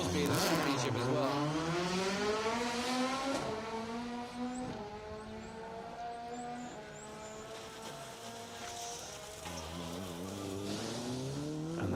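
Sunbeam rally car on an asphalt stage of the Manx Rally, its engine rising and falling through gear changes and revs, fairly faint, with a commentator speaking over it.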